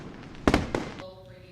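Fireworks from an Independence Day display at America's Freedom Festival on July 4th: two loud, close booming bursts in quick succession, each trailing into a fading rumble.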